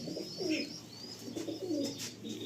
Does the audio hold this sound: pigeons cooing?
yes